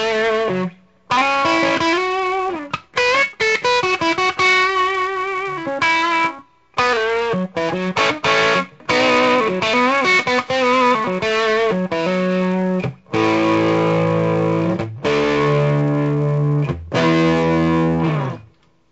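Electric guitar played through the silicon side of a Keeley Fuzz Head pedal at a fairly low setting, a Paul Reed Smith Standard 22 Satin with humbuckers into an EL34 amp, gives loud, continuous distorted chords and riffs with brief pauses between phrases.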